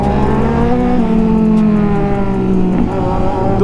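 Kawasaki Z900 motorcycle engine revving hard and loud at close range, a sustained roar that climbs in pitch, dips briefly near the end, then picks up again.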